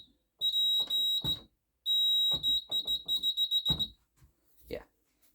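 A fire alarm panel in fault sounds its buzzer as a steady, high-pitched tone in repeated bursts, close and clear. Speech-like sounds break in between the tones.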